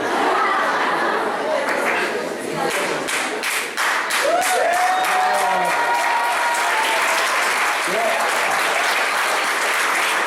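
Sustained audience applause fills the room, dense clapping with some crowd murmur and a few voices rising through it, steady and loud throughout.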